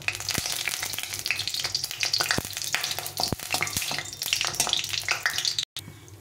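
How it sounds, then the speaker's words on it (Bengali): Two dried red chillies fry in mustard oil with a busy crackling sizzle full of sharp pops and spatters, close and continuous, ending in a brief cut near the end. "দিয়ে প্রথমে এখানে দুটো শুকনো লঙ্কা ভেজে নেব।"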